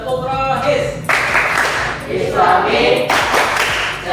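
Students in a classroom clap a cheer rhythm together, loud and close, with bursts of patterned clapping mixed with shouted voices over about four seconds.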